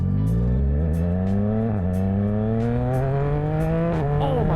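A tuned 2026 Yamaha R9 motorcycle pulls hard in second gear, its engine note climbing steadily and loudly with a brief dip near a shift point before rising again, close and continuous.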